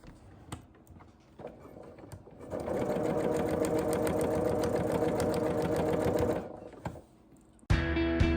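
A sewing machine stitches pumpkin quilt strips, running in a steady, loud mechanical whir for several seconds after a few taps, then stopping, followed by a brief sharp clatter.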